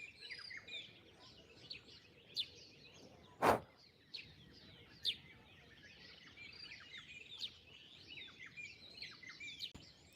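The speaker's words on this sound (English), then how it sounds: "the birds." Birds chirp and tweet around a watering hole in Rwanda, many small calls scattered through quiet outdoor ambience at moderate distance, with one sharper thump partway through.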